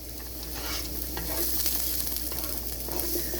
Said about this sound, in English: just keep stirring these mushrooms around in the garlic butter until they're what you like them to be